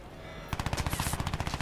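Machine gun fire in the video game Crysis 2, a fast, rapid burst of evenly spaced, punchy shots that kicks in abruptly after a quiet moment and rattles on loudly to the end.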